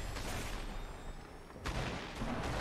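Gunfire rings out during a video game shootout, faint crackling shots with a sharper burst late in the short stretch.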